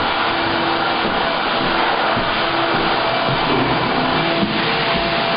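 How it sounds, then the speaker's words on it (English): A vacuum cleaner runs steadily during a major house cleanup after construction work, a loud continuous whooshing drone with a faint whine, close and unbroken, with no talking. "now I've got Brian doing a major cleanup on the house"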